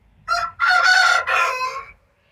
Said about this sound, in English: I'm at the chicken coop and they're in the all the hens are inside